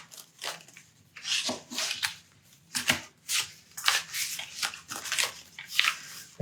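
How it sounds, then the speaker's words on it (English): Cards being drawn and shuffled from a tarot deck by hand, a close run of soft papery slides, rubs and flicks coming in uneven bursts with short pauses between them. "Let me draw some more cards."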